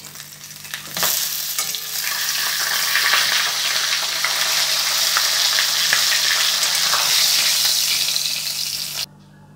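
Salted fish heads fry in hot oil, producing a loud, continuous sizzle and crackle that swells after a second and holds steady before cutting off abruptly near the end.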